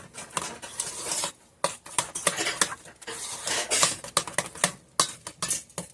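Sour cream donut dough is worked in a bowl with a utensil: close, irregular scraping and clacking strokes in quick bursts, with short pauses between, and no talk.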